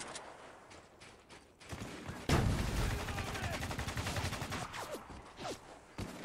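Sustained gunfire in the video game Spec Ops: The Line, a loud burst of rapid shots building into continuous firing after a quieter start, with shouted voices at moments.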